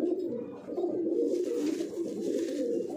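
Pigeons of the Punjabi Malwai breed cooing close by, a continuous run of soft, throaty rolling coos repeating without pause, with no talk over them.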